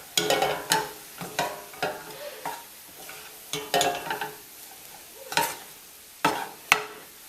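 Mashed yams being pressed down and stirred in a pan, producing a series of close, uneven scraping and squishing strokes with a soft sizzle beneath, and no talking.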